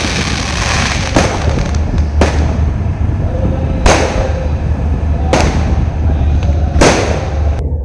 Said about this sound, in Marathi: आता फटाके बघितलेत ना पूर्ण सगळीकडे, दोन्हीकडे पण फटाके फुल जोरात एकदम.